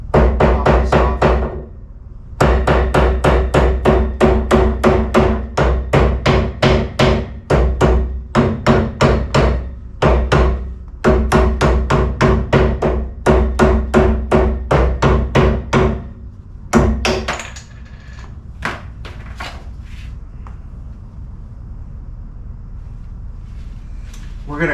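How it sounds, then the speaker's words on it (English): A rubber mallet strikes a boat trailer wheel hub repeatedly to knock it loose, loud rapid bursts of close blows with short pauses between runs, then a few scattered final knocks. "I got a rubber mallet here. I'm going to pop this off."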